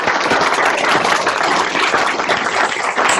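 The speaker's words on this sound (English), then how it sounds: "join me in giving a warm round of applause to Pro Football Hall of Famer, Mr. Alan Page" A warm round of applause from a seated audience greets Pro Football Hall of Famer Alan Page as he takes the stage, steady, dense clapping throughout, close and loud, with no speech over it.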